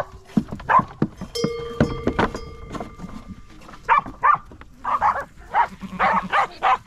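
Sheepdogs at a mountain sheepfold on Muntele Cristigi bark in sharp, irregular bursts, some close and loud, others overlapping in quick volleys, with scattered livestock and yard noise between.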